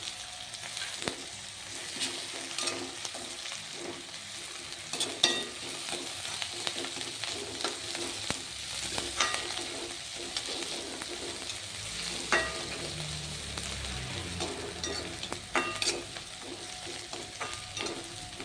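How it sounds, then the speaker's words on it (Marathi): Coriander and spring onion greens fry in a pan, giving a soft, steady sizzle broken by repeated scraping and clinking from the stirring spoon, with no voices. "थोडा कोथंबीर कांद्याच्या सोबत आपल्याला भाजून घ्यायचं आहे"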